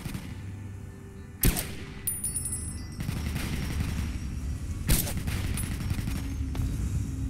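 Gatling laser fire in the Fallout 3 video game, sharp bursts and rattling volleys at mid distance, with a loud crack near the start and another midway over a steady background din.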